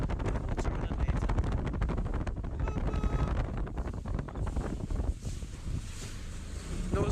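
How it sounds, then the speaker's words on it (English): Heavy wind rushes across the microphone during an evening boat ride on the water in Florida, with a continuous blustery roar. The wind eases somewhat toward the end. "Notice me and Stephen's the only ones on the boat"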